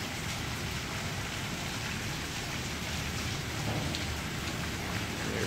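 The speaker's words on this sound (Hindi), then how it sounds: "ये देखें हल्की हल्की बारिश भी हो रही है" Light rain falling on a rooftop garden with green plants, fruit and vegetables, a steady even hiss of drops on surfaces throughout, fairly loud and uninterrupted, with no voices.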